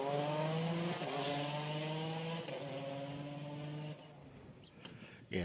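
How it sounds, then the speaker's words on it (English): A GRS race car at a sprint event roars past with a harsh, loud engine note, pitch sliding through gear changes before fading as it moves away. "There is nothing polite about the sound of a GRS."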